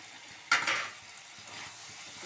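Mung dal tipped into a hot pan for mung pulao, with a sudden loud rattle and hiss as it lands, then a quieter sizzle and soft stirring scrapes close by.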